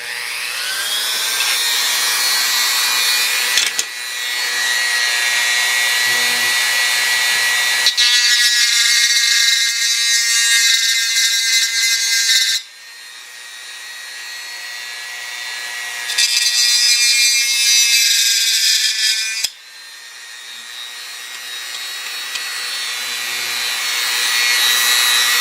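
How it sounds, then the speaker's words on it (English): Dremel rotary tool fitted with a router bit cutting a notch in a prop build, a loud close high-pitched whine running steadily with speed shifts and brief changes in load, no talking. "I got the Dremel bit, or the router bit and the Dremel"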